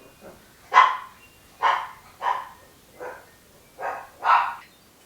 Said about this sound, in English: Sorry, I guess my dogs think that it's time to bark.